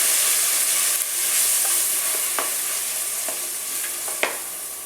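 Green and red peppers fry in a hot pan with a steady broadband sizzle, broken by a few soft scraping stirs toward the end; close and continuous, with no talking.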